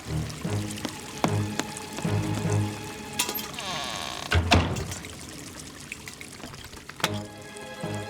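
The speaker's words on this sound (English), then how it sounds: "I can use that bucket to bail out the water." Water sloshing and pouring as it is bailed out with a bucket during a flood, with several splashing pours and trickles at irregular intervals, close and moderately loud.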